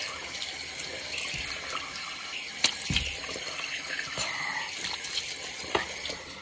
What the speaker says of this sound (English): Then I will rinse my face.